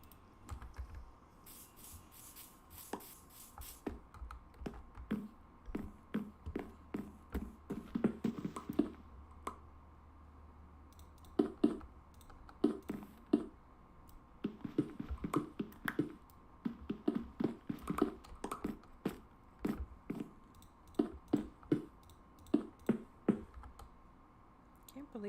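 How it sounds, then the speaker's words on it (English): Computer keyboard typing during a Minecraft session: close clicking keystrokes in irregular bursts with short pauses, moderately quiet throughout. "Stupid keyboard"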